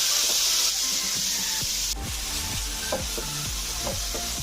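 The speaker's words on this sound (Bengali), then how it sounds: "দেবো পেঁয়াজ কুচি ভালো করে এটা ভেজে নেব" Chopped onion frying in a pan for aloo paratha filling, a steady broadband sizzle with repeated spoon-stirring scrapes and knocks, close and moderately loud, no talking.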